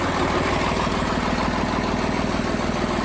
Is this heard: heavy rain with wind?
no